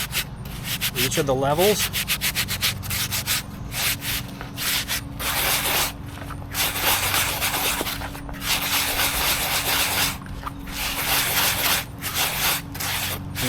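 A gold pan's surface being scratched and scuffed to season it, a harsh continuous rasping and rubbing with short pauses, loud and close, with someone talking briefly over it.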